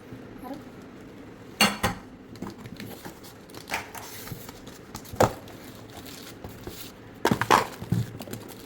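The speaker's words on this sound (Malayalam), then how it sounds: "ഒരു സോസ് പാനാണ് തോന്നുന്നു കേട്ടോ നല്ല വെയിറ്റ് ഉണ്ട് സർജിക്കൽ സ്റ്റീൽ" A heavy surgical steel saucepan is handled, giving several sharp metallic clanks and clinks spaced a few seconds apart over a low background hum, with quieter rattles between.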